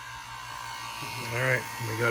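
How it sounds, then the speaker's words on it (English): An inexpensive vacuum pump drones steadily while evacuating the air-conditioning system of a Volkswagen Vanagon, a continuous buzzing hum that rises slightly toward the end as someone talks over it. "I used my cheapo vacuum pump to evacuate the system for the first time."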